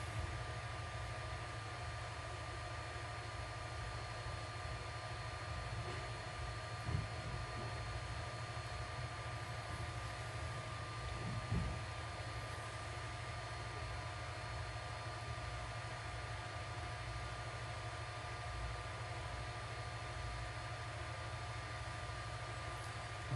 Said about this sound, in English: That's my 3D printer running.